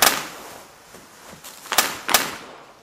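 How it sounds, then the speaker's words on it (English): Bubble wrap being popped, a few sharp snapping pops spread across the moment, the loudest two close together near the end, with a faint crackle after the first. "It's the noise of the bubble wrap."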